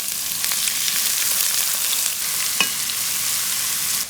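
Crushed shallots fry in hot oil for a quail stir-fry, a loud, continuous crackling sizzle with a single faint clink partway through and no speech.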